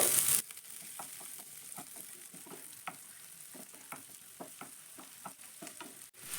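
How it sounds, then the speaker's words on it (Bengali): Beaten egg sizzles steadily in a pan with onion and capsicum for a suji breakfast, with light stirring taps and scrapes throughout and no talk. "এবার ডিমটাকে সাইডে আমি একটু ভুজিয়ার মতো ভেজে নেব"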